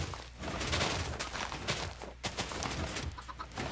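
Minecraft chickens cluck in a game world, brief repeated fowl calls scattered over a busy, crackly game soundscape with no talk.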